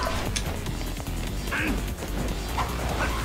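Duck quacks in the Yakuza Kiwami video game, several short nasal calls scattered over a busy mix of game sound effects and music, moderately loud.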